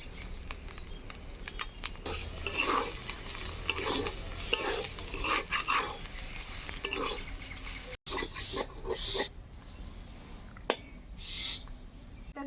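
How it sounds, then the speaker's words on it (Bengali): Potato pieces fry with salt, turmeric and chili powder in a pan, a steady close sizzle broken by repeated scraping stirs, with a brief break partway through before the frying resumes. "ভালোভাবে ভেজে নেওয়া হয়ে গেছে"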